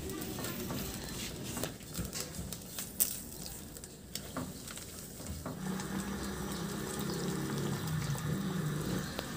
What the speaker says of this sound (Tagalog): At lagyan ko rin yan ng tubig, mga 1 cup lang.